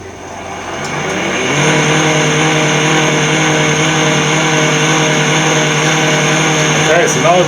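An electric motor driven by an inverter kit at 100 Hz gives off a steady, loud tonal whine with layered harmonics. It ramps up over the first couple of seconds, then holds with a slight wobble.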